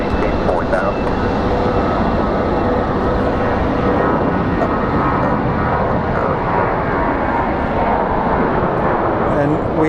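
An American Airlines airliner taxis up at Phoenix Sky Harbor airport with a loud, steady jet engine roar that fills the whole stretch, while voices talk over it.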